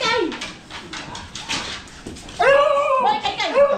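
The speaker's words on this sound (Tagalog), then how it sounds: "Ang laki ng aso." A large dog whimpers and yips in high, whining bursts, growing louder and more insistent in the second half, while people talk excitedly nearby.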